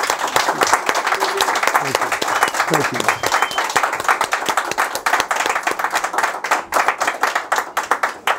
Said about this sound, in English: So please, the biggest applause.